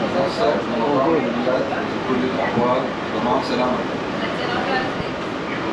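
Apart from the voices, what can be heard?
train riding on rails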